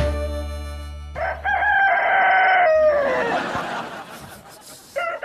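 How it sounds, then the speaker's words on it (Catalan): A rooster crows loudly nearby, a long rising and falling call after a steady electronic tone, followed by softer background noise, at four in the morning. "Ha cantat un gall!"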